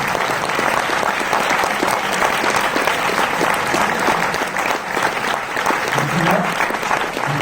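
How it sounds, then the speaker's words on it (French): A post-screening audience gives loud, sustained applause for the lead actors of a Paris film, dense crowd clapping that fills the room without letup, with a hum of crowd noise underneath. "je vous demande d'applaudir comme s'ils étaient marqués un but avec les champions"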